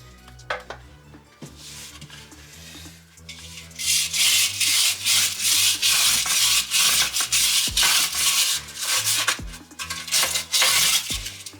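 Rubbing to clean a dented chrome part off a moped being restored, in a workshop: steady rapid scrubbing strokes, close and fairly loud, repeating in quick rhythmic bursts with a few knocks, no talk.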